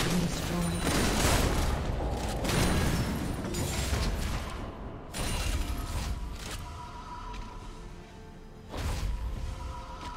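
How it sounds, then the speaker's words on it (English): Turret destruction in League of Legends amid ongoing combat: bursts of rapid impacts, crackling blasts and booms come in several loud waves, with an announcer voice in the mix. "Red team's turret has been destroyed."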